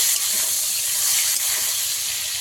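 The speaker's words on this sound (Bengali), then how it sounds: "কিছুক্ষণ ভেজে নেব" Golden fish, freshly caught from a pond, frying in hot oil with a steady, loud, continuous hiss and crackle that fills the whole stretch without pause.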